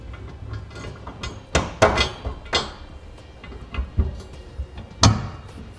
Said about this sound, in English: We're going to take our 1/2-inch carriage bolts and drop them into all the corresponding holes